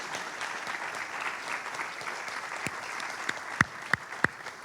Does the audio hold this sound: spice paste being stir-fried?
no